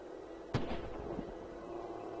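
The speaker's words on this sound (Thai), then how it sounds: "รอเสียงปืนก่อน" A single sharp starting-gun bang in a video game cracks out once amid steady game background noise, with a brief ringing tail afterward.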